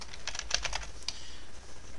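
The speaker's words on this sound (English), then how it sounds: "in the script, you type the text you want." Typing on a computer keyboard, a quick burst of close, quiet key clicks in an uneven rhythm, then a pause and a few more taps.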